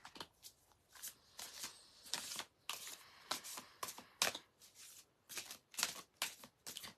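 A deck of playing cards being shuffled by hand, a quick run of crisp riffling bursts and soft slaps repeating at an uneven rhythm, close and fairly quiet with no talking.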